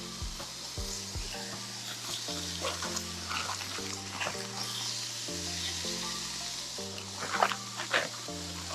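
Asparagus sizzling on a griddle over a camping stove outdoors, a continuous crackling hiss with a low hum from the stove underneath, close by, with a few louder pops and scrapes near the end.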